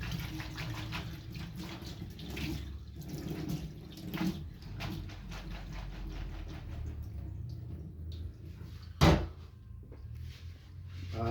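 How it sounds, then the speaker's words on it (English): Tap water runs steadily while lettuce is washed under it in a sink, a continuous close splashing with small shifts and a sharp knock near the end. "open it, make sure the water is going through. Make sure the lettuce is washed thoroughly."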